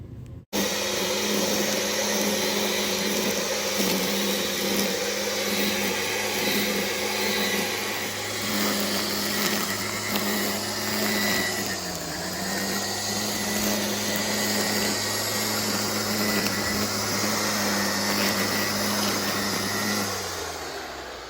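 A garden machine cutting plants gives off a loud, continuous motor drone close by, holding steady for about twenty seconds with a brief dip in pitch partway through.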